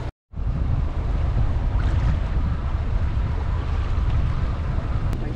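A sailboat's motor runs on open water, giving a loud, continuous low rumble mixed with wind and water wash, steady from start to finish after a brief silent gap at the beginning.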